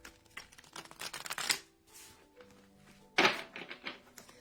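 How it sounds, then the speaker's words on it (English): Tarot cards are shuffled by hand, with quick papery riffles and soft taps in short bursts, a pause, then another sharper flurry, close and fairly quiet. "I will give the tarot a quick shuffle here."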